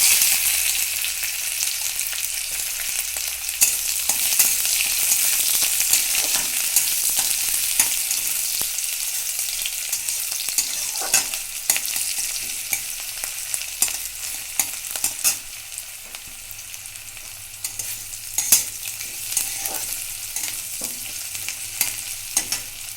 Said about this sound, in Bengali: পেঁয়াজ কুচিটা দিয়ে দিচ্ছি।